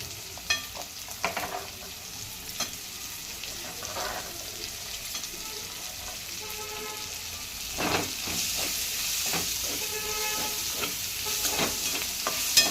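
Chopped onion sizzles and hisses in a hot pan while being stirred, a steady frying crackle with occasional scrapes, cooking toward a Khandeshi bharit.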